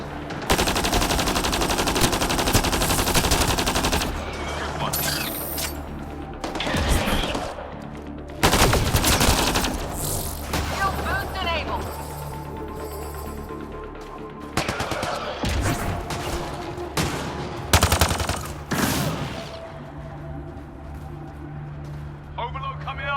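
Bursts of rapid automatic gunfire and sharp single shots in the video game Mass Effect: Andromeda, loud and close, coming in clusters separated by short gaps, with voices talking between the volleys.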